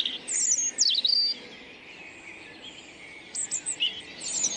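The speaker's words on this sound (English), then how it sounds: "there's a robin right over your head, just singing in the tree above" A robin singing from a tree overhead, high-pitched warbling phrases in short bursts at the start and again near the end, clear above a quiet outdoor background with faint insect hum, no talk.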